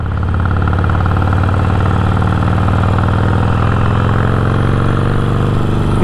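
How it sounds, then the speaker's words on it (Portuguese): A Harley-Davidson Iron 1200 motorcycle with a custom exhaust rumbles steadily and loudly up close, its deep, throbbing engine note holding constant throughout with no voices over it. "O ronco dessa moto com esse escapamento custom"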